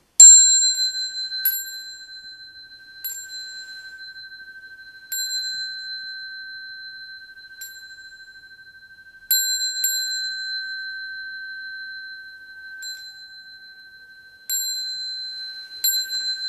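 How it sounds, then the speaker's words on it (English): A small ritual bell at a Buddhist temple service is struck repeatedly at uneven intervals, each bright ding ringing out clearly and decaying slowly before the next, with no talking. "I'll ring the bell 3 times"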